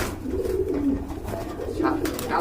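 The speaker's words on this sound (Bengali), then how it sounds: "লালটা নর ভাই ডাক শুনলে শান্তি খুব জোরে জোরে ডাকে" A male Rajgolla pigeon coos loudly and repeatedly up close, its low throaty rolling calls continuing steadily with no speech.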